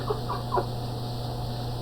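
A person imitates a rooster crowing, giving a few short, clucky vocal bursts close by, which then fade into a steady background hum.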